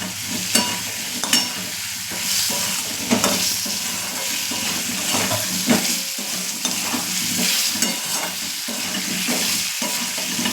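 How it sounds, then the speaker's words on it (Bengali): Spices with a little turmeric fry in a crowded kadai while being stirred, giving a steady close sizzle with scraping stir strokes and small clatters throughout. "এটা দিয়ে একটু নাড়াচাড়া করবো।"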